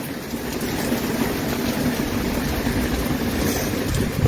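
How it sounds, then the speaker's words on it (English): Wind-driven rain lashes down sideways during a thunderstorm in Taft, a loud, steady, close roar of dense rainfall and gusting wind that runs without a break, with no voices. "Wow, that rain is blowing sideways."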